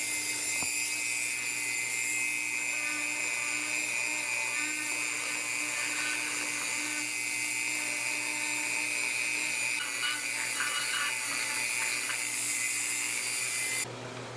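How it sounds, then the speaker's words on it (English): A Dremel rotary tool grinds PVC pipe with a continuous high-pitched whine that stays close and steady throughout, shifting slightly as it bites into the plastic, then drops off just before the end. "we're going to grab the Dremel and just keep repeating on this"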